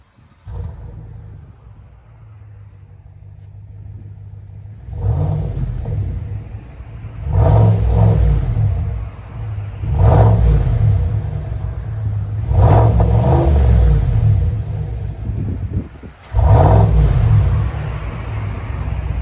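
A GMC Sierra Denali pickup with a 6.2L V8 and aftermarket exhaust revs hard several times in bursts, deep rumbling exhaust rising and falling with short idle pauses between, loud and close.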